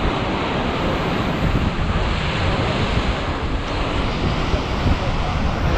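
Sea waves wash onto Digha beach as the tide goes out, a steady, loud broadband roar of surf mixed with wind buffeting the microphone, continuous with no clear separate breaks.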